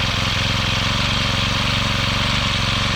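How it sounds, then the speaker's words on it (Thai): A small Honda GX50 engine runs with the choke on, revving high in a steady, fast, buzzing drone that stays loud and close for the whole stretch. "เครื่องยนต์จะเร่งรอบสูงนะครับตอนช่วงที่เราเอาโชคขึ้น"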